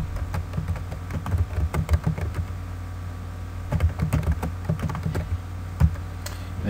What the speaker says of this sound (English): And then we're going to type in Jasper National Park.